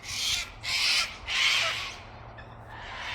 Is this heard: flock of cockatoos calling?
yes